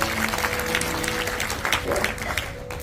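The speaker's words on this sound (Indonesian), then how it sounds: "Kasih tepuk tangan dulu Pak, luar biasa." A church congregation applauds, a thick wash of clapping hands that runs evenly for about three seconds over a faint steady tone, fading a little at the close.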